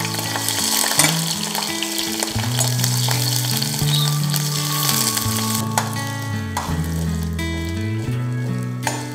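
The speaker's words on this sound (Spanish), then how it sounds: "vamos a empezar sofriendo el ajo y la cebolla" Garlic and onion sauté in a pan for a Mexican chile cream, a continuous bright sizzle running underneath loud background music with a heavy bass line throughout.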